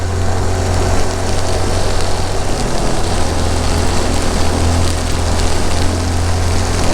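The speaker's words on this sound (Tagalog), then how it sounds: "Oh, lakas na ng ulan ah." Heavy rain pouring steadily at sea, a dense, constant hiss over a low droning engine hum, loud and unbroken throughout.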